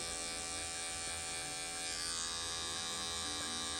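Electric hair clipper fitted with a 1.5 guard, lever fully open, during a classic tapered fade haircut, buzzing in a steady, continuous drone close by with no one talking.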